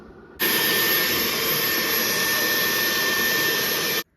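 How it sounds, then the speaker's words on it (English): A vacuum cleaner runs inside a Fender Hot Rod Deville 410 guitar amp, switching on abruptly into a loud, steady whine and cutting off cleanly about three and a half seconds later. "I figured I'd pop this back off and vacuum this nastiness out a little bit"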